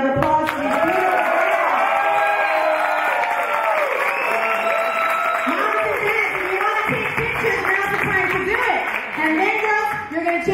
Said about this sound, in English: Let me hear another round of applause for these beautiful girls.